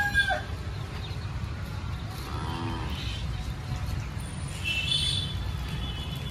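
Chickens and chicks in the grounds of the Hanuman temple at Baridih, with a rooster crowing and soft clucking rising a few times over a steady, low outdoor rumble.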